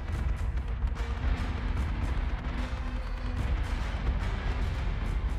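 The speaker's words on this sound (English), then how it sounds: "There goes the torpedoes." Torpedoes launching in the space combat game Battlestar Galactica Deadlock, heard as a dense rumbling barrage of deep booms and crackling blasts that rolls on without a break.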